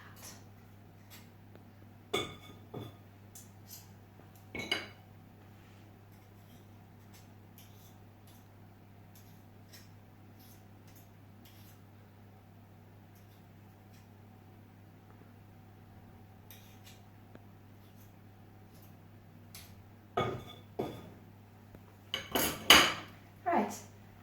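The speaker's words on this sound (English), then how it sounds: "I'm just going to scrape the beaters." Mixer beaters are scraped against a mixing bowl in a few sharp metallic clinks and scrapes, a cluster near the start and a busier run near the end, over a faint steady hum.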